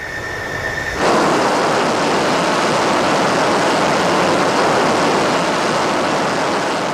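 An F-14 fighter jet starts its takeoff run down the runway; after a second of quieter engine whine the thrust bursts in to a loud, sustained broadband roar that holds steady to the end.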